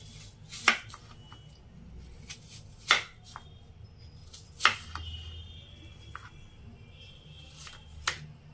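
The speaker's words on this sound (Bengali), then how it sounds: "ছোট ছোট করে কেটে নেব।" An apple being chopped into small pieces on a cutting board, with four or five sharp isolated knife knocks spaced a couple of seconds apart over a quiet room.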